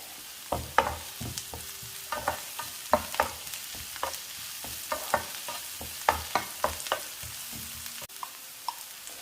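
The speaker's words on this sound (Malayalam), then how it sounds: "ചതച്ച് വെച്ചിരിക്കുന്ന ചുവന്നുള്ളിയും വെളുത്തുള്ളിയും ചുവന്ന മുളകും കൂടെ ഉള്ളതും ചേർക്കാം. ഒന്ന് മൂത്ത് വരണം നന്നായിട്ട്." Crushed shallots, garlic and red chili fry in oil in a pan for a potato and ivy gourd stir-fry, with a steady soft sizzle and repeated scraping stirs of a spoon at a regular rhythm, close and fairly quiet.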